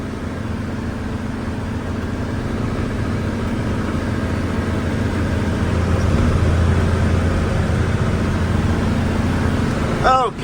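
A tractor engine drones steadily while bush hogging tall CRP grass, with a constant low hum and rumble through the cab and no clear talk.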